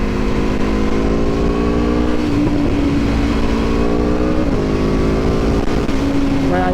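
An Aprilia Tuono V4 1100 Factory motorcycle engine revs while riding, a loud, steady onboard drone whose pitch climbs and drops through gear changes.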